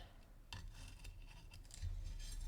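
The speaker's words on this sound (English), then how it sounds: "switch to your fabric scissors to cut your design out" Quiet, close snipping of scissors through cloth, a few soft cuts in a short burst with faint rustling between.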